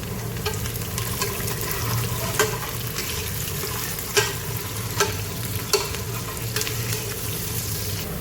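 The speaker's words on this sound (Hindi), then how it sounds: "इस पॉइंट पे भी एक हरी मिर्च शामिल कर रही हूँ, कटी हुई हरी मिर्च मिक्स कर लेंगे" Chopped green chili fries in a pan for a chicken aloo gobi salan, a loud continuous sizzle with a few sharp spoon knocks against the pan as it is stirred.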